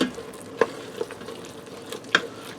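Garlic being stirred into softened mushrooms and onions in an Instant Pot, a few sharp scrapes and clinks of a spoon against the pot over a faint, steady sizzle.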